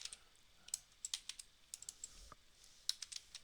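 Typing on a computer keyboard: irregular bursts of light, close key clicks, some quick and some spaced apart, quiet and with no talking.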